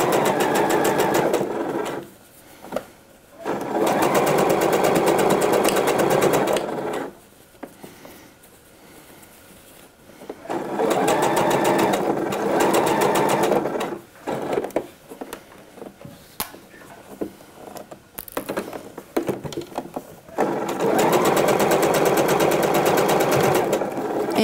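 A sewing machine runs along a dress seam, a close, loud whirring hum in several long stitching runs separated by quiet pauses and short stop-start bursts.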